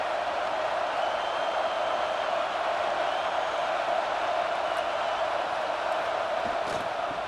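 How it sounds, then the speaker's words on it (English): A large college football stadium crowd roars steadily, a dense, continuous wash of cheering voices filling a big open space. "This crowd bringing the energy and noise early."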